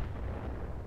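A heavy, sustained low rumble of mortar fire and blasts in the mech game Roguetech, loud and close, filling the whole short moment without pause.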